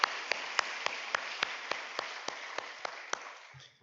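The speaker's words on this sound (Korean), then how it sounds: "지금 박수는 우리 시온 찬양대를 격려하는 박수로 한번 격려하겠습니다." A church congregation claps for the choir in steady unison, about three or four crisp claps per second, evenly spaced, before fading out.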